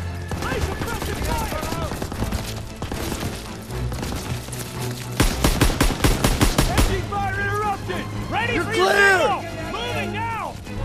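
Machine gun suppressive fire in the World War II shooter game Call of Duty: WWII, on the Hill 493 mission, rattles out in rapid bursts amid other gunfire and battlefield clatter, with voices talking over the action.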